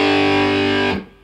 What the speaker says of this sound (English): in this chord sequence I'm going to use distortion for this